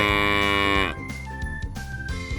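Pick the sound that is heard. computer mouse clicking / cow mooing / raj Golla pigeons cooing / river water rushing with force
cow mooing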